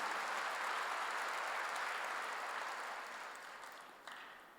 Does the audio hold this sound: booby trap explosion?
no